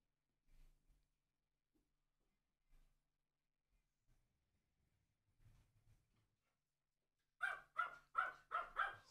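A dog in the background lets out four quick barks in a burst near the end, after a long stretch of near-silence with only faint soft noises.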